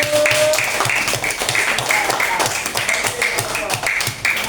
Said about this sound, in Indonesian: kasih tepuk tangan buat Gopur.